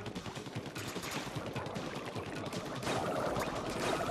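Rapid, continuous gunfire-like shooting in the Splatoon video game, a dense stream of splattering shots that carries on throughout and grows slightly louder near the end, with no talk over it.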